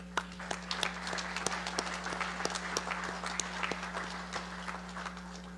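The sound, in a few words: convention audience applause for membership posts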